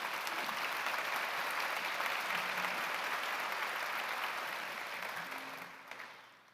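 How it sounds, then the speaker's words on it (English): Sustained audience applause fills an awards ceremony hall at an arena, a dense steady wash of clapping that holds evenly before tapering off near the end, with no voices over it. "Please join me in a round of applause."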